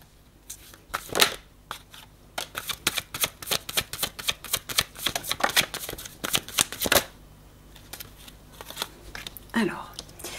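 A deck of tarot cards is shuffled in rapid bursts of riffling clicks and flutters, close and fairly loud, with brief pauses between passes and a short stretch of speech near the end.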